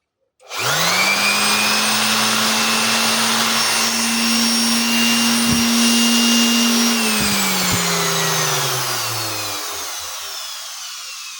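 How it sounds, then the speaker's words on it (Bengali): An Inco-brand industrial rotary center woodworking machine in a Dhaka shop spins up quickly into a loud, steady whine, runs at full speed, then slowly winds down as the pitch falls away. No one speaks. "এটা হলো রোটারি সেন্টার মেশিন বলে এটাকে"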